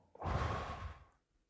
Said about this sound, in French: Alors, on va faire une respiration.